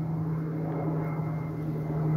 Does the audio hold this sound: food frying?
no